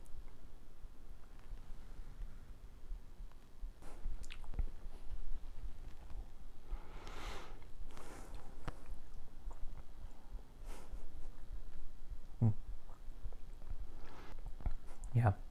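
Wet, squishy mouth noises of Laphroaig Càirdeas 2020 whisky being sloshed around inside the mouth, a close, quiet series of irregular swishes and smacks.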